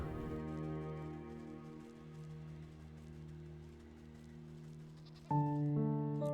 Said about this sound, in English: The goat!